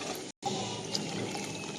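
Water poured into a pot of dried-fish and mango curry, a steady close pour with a brief cut partway through.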